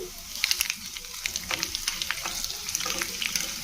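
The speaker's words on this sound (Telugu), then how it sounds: "ఆవాలు వెల్లుల్లి వేగుతూ ఉండగానే ఒక వన్ టేబుల్ స్పూన్ జీలకర్ర వేసుకోవాలి" Mustard seeds, garlic and chana dal fry in hot oil for sambar, giving a close, steady sizzle broken by small pops and crackles.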